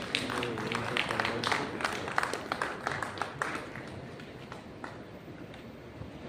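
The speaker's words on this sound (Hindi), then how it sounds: "तालियां बंदिए जोरदार माननीय मुख्यमंत्री महोदय के आगमन के लिए।" An audience at a Builders Association of India western region meeting applauds the Chief Minister's arrival with dense, sustained clapping that is loud at first and then slowly thins and fades.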